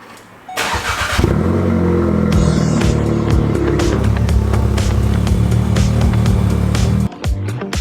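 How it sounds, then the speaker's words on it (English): A Volkswagen Golf R engine cold-starts with a brief crank, then settles into a loud, steady high idle close by that holds for several seconds before abruptly cutting out. "Of course, we gotta do a cheeky little cold start."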